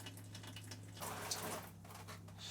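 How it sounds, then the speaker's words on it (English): Water runs from the taps of a motorhome, a soft steady hiss and splash that swells briefly midway before settling, faint and heard alone. "going to run the taps"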